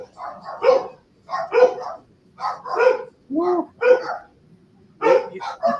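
A dog barks in a series of sharp, close barks and yips spaced by brief pauses, with a few whimpering tones mixed in.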